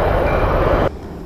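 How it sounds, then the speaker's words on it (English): A train passing by near a creek makes a loud, close, steady rumble that cuts off abruptly after about a second, leaving quieter ambience. "those stupid trains just scare the crap out of me every time they come by"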